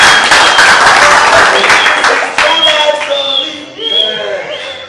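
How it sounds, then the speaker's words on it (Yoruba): An audience applauds loudly for a few seconds, a dense burst of clapping that fades out as voices and a tonal sung or spoken line take over toward the end. "Ó gbìyànjú, ẹ pàtẹ́wọ́ fún un."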